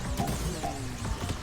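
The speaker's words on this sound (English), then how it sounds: "They shoot fireworks!" Cannons in a video game shoot fireworks, making a steady run of overlapping booms and crackling bursts with whistling sweeps, dense and loud throughout a short span.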